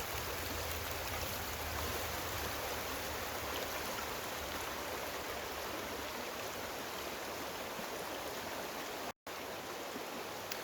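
Stream water rushes steadily near a waterfall outdoors, a dense, continuous wash of broadband noise that holds unchanged throughout and is briefly cut off once near the end.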